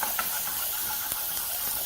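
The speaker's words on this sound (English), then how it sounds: "we're going to proceed to add our sun-dried tomato and pitted olive mixture. Proceed to saute that together." Onion, sun-dried tomatoes and pitted olives sauté together in a pan, giving a short, fairly faint, even hiss with a few small crackles.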